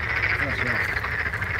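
Frogs croak near a pond in a rural setting, a steady chorus carrying across the open air with faint voices mixed in.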